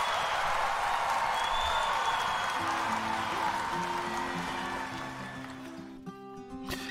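Crowd cheering and applause from a sound effect, a dense wash of clapping and voices that stays loud, then thins toward the end as a musical tone enters.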